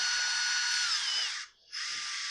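A power tool, likely a cordless driver, drives carburetor screws on a Husqvarna 460 chainsaw under repair, sounding as a loud steady high whine that briefly drops away before resuming.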